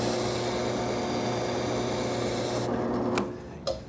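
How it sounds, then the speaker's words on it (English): A sanding drum on a drill press gives a steady abrasive hiss on wood over a motor hum, cutting out near the end with a couple of brief knocks. "I'm using just a portion of the sanding drum here"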